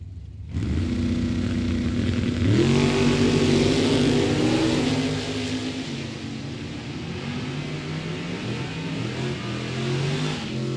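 An Oldsmobile drag racer launches and tears down the strip at a race track, its engine roaring loud and close, revving hard through gear changes before easing as it pulls away into the distance.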